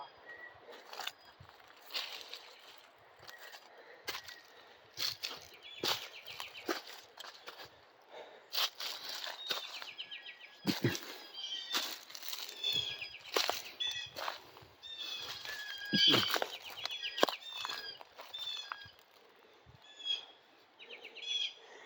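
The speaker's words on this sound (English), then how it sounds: "There's some very loud birds up here" Loud, busy birdsong high up on a hiking trail, with many sharp chirps and calls overlapping, close by, with occasional soft footsteps or rustling underneath.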